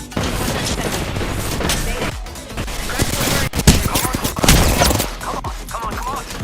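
Heavy video game gunfire fills the whole stretch: rapid bursts and shots overlap with booms and crashes, loud and continuous, with a few brief dips between volleys.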